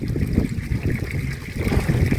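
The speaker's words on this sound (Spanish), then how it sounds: "Si escuchan cómo toma agua" A large Swiss bull drinks from a ranch water trough, close and loud, with repeated sloshing gulps and lapping splashes in an uneven rhythm, no voices over it.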